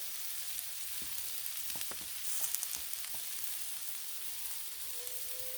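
Vegetables cook on a Blackstone griddle outdoors with a faint, steady sizzle and a few light ticks and scrapes, quiet and distant in the background with no talking.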